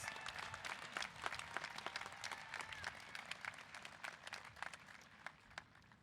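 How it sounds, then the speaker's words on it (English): Audience claps for graduates at a Moorpark College commencement ceremony, a quiet, distant patter of many hands with sharper individual claps standing out, steady for several seconds. "let's give one more round of applause for all our graduates"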